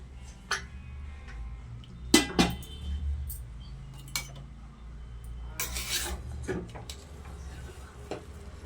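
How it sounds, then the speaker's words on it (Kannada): A pressure cooker holding egg biryani being opened after cooling, with scattered metallic clinks and clatters of the lid and vessel, a few sharper knocks standing out against quiet room noise, no talking. "ನೋಡಿ ಕುಕ್ಕರ್ ಕೂಲಾಗಿದೆ. ಓಪನ್ ಮಾಡ್ತಾ ಇದ್ದೀನಿ."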